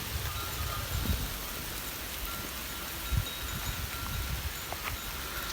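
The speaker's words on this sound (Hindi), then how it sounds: "अब ये जो लाइटली हल्का फुल्का शोर है ये बूंदाबांदी है, ये फुहार है, हल्की फुल्की जो बारिश है" Light drizzle falls in a village on an autumn evening, a soft continuous patter with occasional louder drops and faint wind over several seconds, with no voices.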